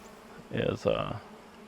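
A short burst of honey bee buzzing rises close by at an open hive for about a second, then fades back into a quiet background.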